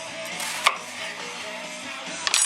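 A knife quartering a whole onion on a board, a steady close cut with a couple of sharp knocks as the blade meets the surface, no talking.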